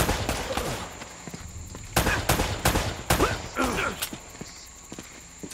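Gunfire in the video game Uncharted: Drake's Fortune, sharp bursts of shots and short volleys popping at irregular intervals, mixed with game sound effects and some talking.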